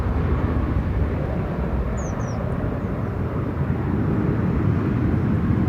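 Airliner landing at Manchester Airport, a broad roaring rush of jet noise held at steady loudness throughout, heard from a distance with no voices.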